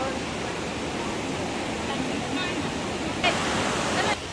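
Clear fresh water from Mount Hermon flows in a stream at Tel Dan Nature Reserve in northern Israel, a constant rushing wash close by, with voices faintly over it.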